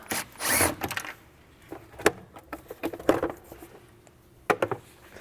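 T20 Torx screws being undone on a BMW N55 engine in a 2010-2013 E82/E88 135i, giving scattered close clicks, light metallic taps and short ratcheting scrapes with quiet gaps between.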